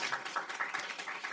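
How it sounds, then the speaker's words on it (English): Brief applause from a panel event audience, a fairly light patter of clapping hands with distinct, uneven bursts rather than a dense roar. "Let's give her a round of applause."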